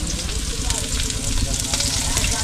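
Garlic and onion sizzle steadily in a hot pan, a dense continuous crackle of frying held at an even loudness throughout.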